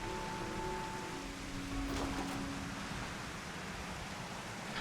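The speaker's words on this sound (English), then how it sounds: "The rain comes down and straight." Steady rain falls straight down in the Labyrinthos area of Final Fantasy XIV, a soft continuous hiss with a faint low rumble underneath and a few quiet tonal game sounds drifting in early.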